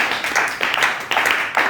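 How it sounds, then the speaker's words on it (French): A church congregation claps together in a brisk, regular rhythm, crowd claps landing in sharp bursts roughly twice a second, close and lively. "On acclame pour la gloire."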